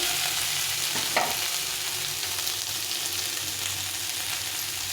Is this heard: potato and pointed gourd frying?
yes